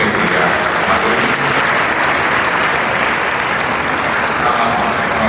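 Loud, sustained applause from an audience at an annual awards ceremony in the Zappeion Megaron, Greece, a dense, even roar of many hands clapping at once with no pauses, and no speech over it.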